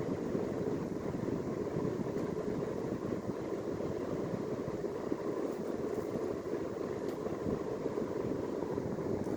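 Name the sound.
Emerson 52-inch 1895 series ceiling fan running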